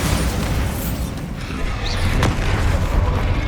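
Bombarda explosion spell in the video game Hogwarts Legacy: a loud, dense blast rumbling through a brief roaring burst with a sharp crackle near the end.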